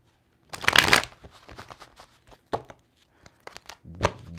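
Tarot cards are shuffled up close: a dense riffling burst, then scattered quick flicks and taps, ending with another short riffle.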